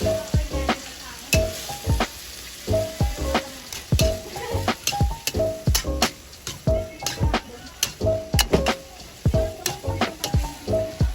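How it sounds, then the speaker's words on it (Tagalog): Cabbage and carrots stir-fry in a hot pan, a bright steady sizzle broken by repeated rhythmic scrapes and clacks of a utensil stirring the vegetables, loud and close. "susunod na natin ang cabbage at carrots at haluing mabuti"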